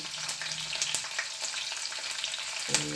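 Green chillies and curry leaves frying in hot oil for Maharashtra-style kanda poha, a bright crackling sizzle with sharp pops and spits, close and continuous for a few seconds, with no speech.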